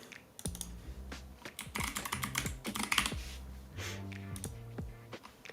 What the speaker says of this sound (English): Typed it correctly the first time.